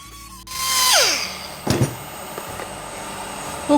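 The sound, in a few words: sanding metal with 40 grit sandpaper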